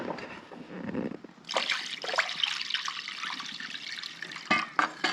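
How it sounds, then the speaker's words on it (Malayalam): Water is poured into a pot of fish curry gravy, a steady splashing, trickling pour that starts after a quieter first second and runs close and fairly loud to the end, with a few sharper splashes near the close. "ഇനി ആവശ്യത്തിനുള്ള ചാറിന് വേണ്ടിയിട്ടുള്ള ആവശ്യമുള്ള വെള്ളവും കൂടി ചേർക്കാൻ പോകണം ഇതിനകത്തോട്ട്."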